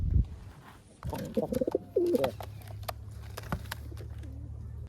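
Pigeons in a loft give soft, throaty coos close by, a few rolling calls in the first half over a faint steady background hum.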